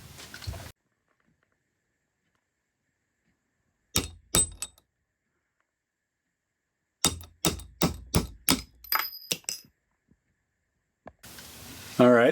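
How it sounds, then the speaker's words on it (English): Sharp metallic taps from hammering a pin out of a drill chuck key, a couple of blows, then a pause, then a quick run of about eight strikes, close and loud against silence. "So first thing I got to do is punch the pin out."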